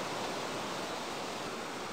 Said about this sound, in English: We are just below Eagle Rock on the McKenzie River